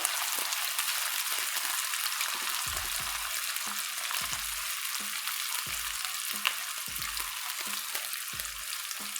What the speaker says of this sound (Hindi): बघार के लिए प्याज फ्राई हो रहा है